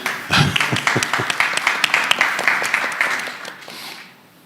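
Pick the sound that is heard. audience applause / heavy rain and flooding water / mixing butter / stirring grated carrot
audience applause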